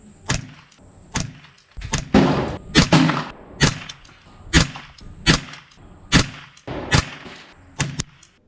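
A rifle firing supersonic ammunition at a 75-yard target: a string of about a dozen sharp, loud cracks at a quick, uneven rhythm, each followed by a short echoing tail.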